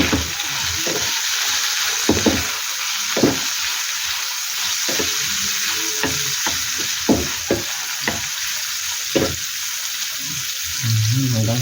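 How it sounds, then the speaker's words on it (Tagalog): Hotdogs fry in a pan for a budget spaghetti sauce, with a steady broadband sizzle throughout, punctuated by scraping and stirring knocks, all close and continuous with no talk. "Hanggang sa maluto itong hotdog natin"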